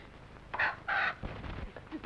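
A rooster or chicken gives a few short, close crowing and clucking calls in quick bursts, joked about as a chicken speaking from inside a man's stomach in a 1959 Bollywood drama.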